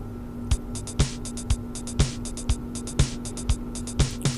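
A drum machine built in Excel plays a steady beat with regular kick thumps and hi-hat ticks, ending in a quick run of hits as a fill.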